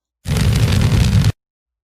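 A fire spell effect in a Unity turn-based RPG: a single roaring, crackling whoosh of flame lasting about a second, loud and heavy at the low end, starting and stopping abruptly against silence.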